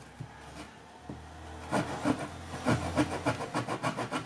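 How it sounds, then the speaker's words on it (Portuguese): A hand saw cuts through a stiff cardboard tube, first with a few hesitant scrapes, then a steady run of close rhythmic rasping strokes. "A faquinha de serra não cortou muito bem, então eu cortei com uma serra."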